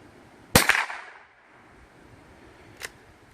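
Two sharp .22 LR rifle shots, fired from a squeeze bore barrel with Mini Mag ammunition, crack outdoors about two seconds apart, the first loud with a short decaying tail and the second fainter, with no talking.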